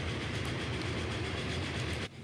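An express train running in the Transport Fever 2 railway game gives a steady, loud rolling rumble with rhythmic clickety-clack of wheels, continuing unbroken before dropping away abruptly at the end.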